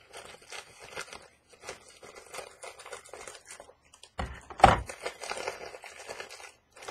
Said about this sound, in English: please ignore the crinkling while I get this all the way open